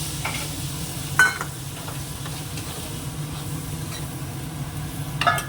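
Turmeric and salt get stirred in a frying pan, a steady low sizzle under soft spatula scraping, with a couple of brief clinks against the pan; no voices.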